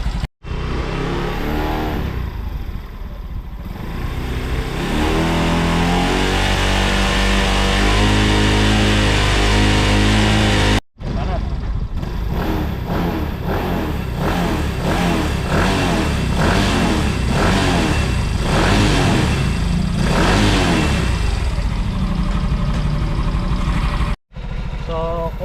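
A Yamaha Mio i 125 scooter engine idling after a cold start with a programmable ECU, a loud, close, steady putter throughout, briefly cut by two short dropouts, while someone talks over it.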